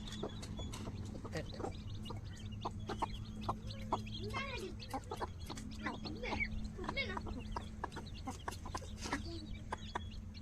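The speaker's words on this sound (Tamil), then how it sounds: "அந்த கோழியை அடைச்சி போட்டிருக்கோம்ல அதான் சண்டைக்கு வராங்க வெளியே வாங்க வாங்கன்னு கூப்பிட்றாங்க" Hens cluck and call repeatedly at a moderate distance toward a penned-in hen, with scattered clucks and squawks over a low background hum.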